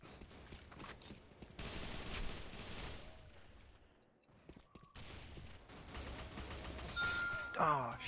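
Bursts of gunfire in the video game Repulse 3 crackle through a multiplayer match, with dense shots coming and going under a player's talk.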